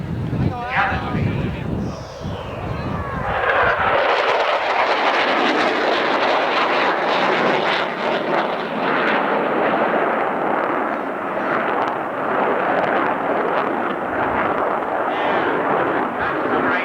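A USAF Cold War-era jet roars at a 1991 airshow, rising from takeoff power into a loud, sustained broadband blast as it gathers speed and climbs, with wind buffeting the microphone throughout.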